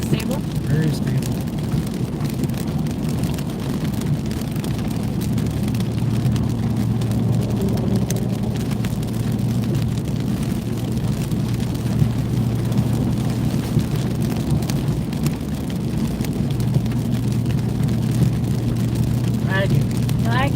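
Rain and road roar fill the cab of a new truck cruising at highway speed, a dense steady wash of tire and engine noise with occasional drops, while people talk over it.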